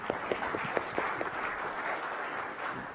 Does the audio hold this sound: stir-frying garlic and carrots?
no